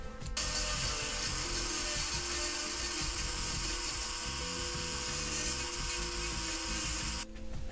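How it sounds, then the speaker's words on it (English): A small power drill bores into the two joined plastic halves of a Bandai Yamato Mecha Colle dimensional submarine model kit, giving a steady, close, high-pitched whine that runs continuously and stops abruptly at the end. "sort of drill into that bit with these two halves together"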